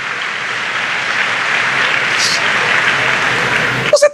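An audience at a church sermon applauds in a steady, dense wash of clapping that holds for several seconds, with a few sharp claps and a voice breaking through at the end.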